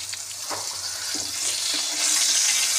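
Pieces of pointed gourd fry in hot oil, giving a steady close sizzle that grows louder over a few seconds, with soft stirring touches and no talk.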